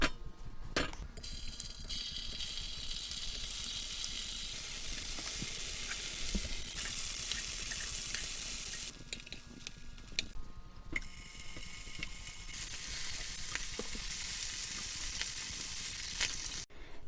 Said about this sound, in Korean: 이제 두부랑 햄을 한번 구워줄 건데요. 달궈진 팬에 기름을 살짝 둘러주세요.